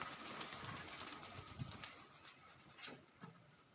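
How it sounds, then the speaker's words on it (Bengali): Pigeons perched on a house rooftop and flying overhead, with faint, soft cooing and wing flutters under a steady outdoor background hiss. "কিছু কবুতর এখানে দেখেন ঘরের চালে"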